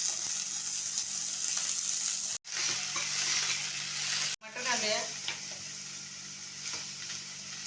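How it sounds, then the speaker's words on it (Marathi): A hot pan sizzles with a steady broadband hiss as oil goes in over onion for paneer butter masala, broken by two short sharp cutoffs, with faint stirring scrapes and no talk. "त्याच्यामध्ये थोडं तेल घालूया"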